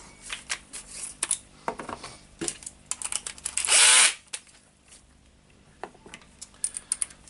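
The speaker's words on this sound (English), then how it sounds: "So you need to unscrew the 4 screws here to get to the housing." Housing screws come out of a Makita HR2811F SDS-plus rotary hammer drill during disassembly: close, irregular clicks and scrapes of metal on plastic, with one loud sustained whir of a powered screwdriver midway, no speech.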